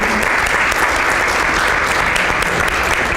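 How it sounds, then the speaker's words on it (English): An audience at a conference morning session breaks into a round of applause, steady and dense clapping from many people throughout, fairly close and with no talking over it. "can you give a round of applause if this is of interest or exciting?"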